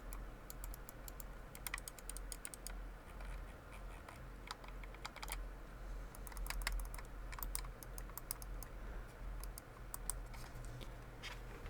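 EVGA X20 gaming mouse buttons clicked repeatedly, crisp quick clicks in irregular bursts and rapid runs over a low background hum, close and fairly quiet, no talking.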